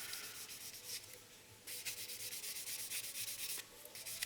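Steady rasping strokes of a 1500-grit abrasive sponge wet sanding the plastic body of a 1/25 Revell Mitsubishi Eclipse model car, close and continuous with brief pauses, no talking.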